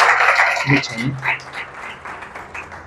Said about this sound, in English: big round of applause, everybody, for Dr. Chase Hayden